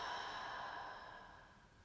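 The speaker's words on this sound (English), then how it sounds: "Breathe in. Big exhale." A single big exhale during a vinyasa yoga breathing exercise, a soft, airy breath sound that fades out over about two seconds, close and alone.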